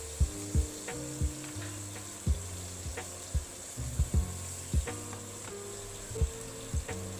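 Sirloin steak with garlic sizzles steadily in a hot pan, a constant hiss broken by irregular knocks and scrapes of a utensil against the pan, close and fairly quiet with no talking.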